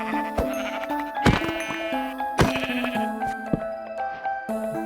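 Sheep bleating in the Minecraft video game: several wavering, nasal bleats overlap in quick succession, loud and close, with no voices.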